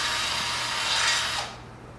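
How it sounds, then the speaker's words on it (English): A drill bores an 11mm hole through a motorcycle rim, giving a steady, harsh grinding whir that runs close and loud, then cuts off abruptly near the end. "go 4 spokes either way to drill a new 7/16 or an 11mm hole"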